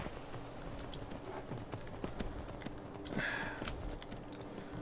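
Horse hooves clip-clopping in the game Skyrim, a faint uneven patter of hoof steps with soft snorting, low and distant under a quiet background.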